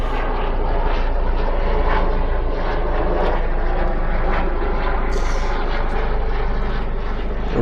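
Above an urban garden, a helicopter passes as a constant, loud engine and rotor rumble that holds steady for several seconds with no break.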